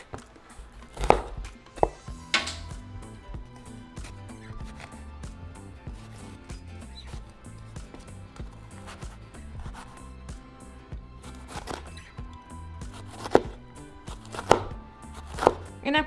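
A knife dicing onion and jalapeño on a cutting board, with irregular close taps and sharper knocks coming in quick bursts between pauses, over a faint low background hum and with no talking.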